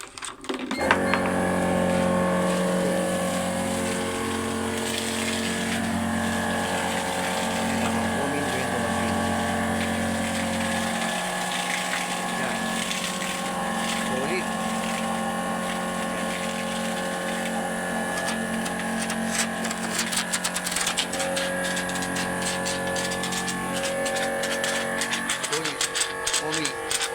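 A coin-operated 2-in-1 vendo pump machine for car wash and pumping runs steadily with a continuous mechanical hum and whine, loud and close, with a voice talking over it.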